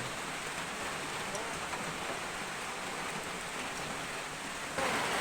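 Heavy rain pours steadily on a rural coconut farm, a dense unbroken hiss that grows slightly louder near the end.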